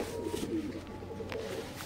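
Fancy pigeons coo at a pigeon farm in a short, close, continuous murmur of soft throaty calls, with a few brief higher sounds over the top.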